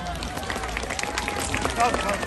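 An outdoor crowd applauds at a Romanian Police Day event in Arad, a dense steady patter of clapping heard from a distance over murmuring spectators.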